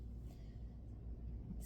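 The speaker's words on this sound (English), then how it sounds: "You hear that thunder? That was loud." Thunder rumbles in the distance, a faint, steady, low roll that runs through the whole moment with no voices over it.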